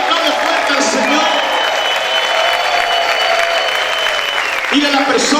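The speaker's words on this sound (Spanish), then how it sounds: "griten y aplaudan fuerte al Señor" Church congregation cheering and clapping loudly and steadily together, a dense wash of applause and shouts that swells again near the end.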